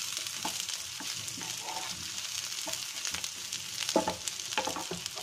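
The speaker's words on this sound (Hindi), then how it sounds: "अब हम इसमें जो मैंने सफ़ेद प्याज काट के रखा था वो ऐड कर देंगे। हल्का सा इसको सॉटे करेंगे।" White onion sautéing in a pan with garlic and chilli gives a steady, close sizzle with soft stirring scrapes and a few louder crackles, and no voices.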